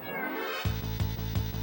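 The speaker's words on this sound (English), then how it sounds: "Kitty Cat is trying to tell me something" A house cat meows beside a Final Fantasy VI game session, its plaintive cries rising over a rhythmic low-pitched game music loop that pulses in three beats.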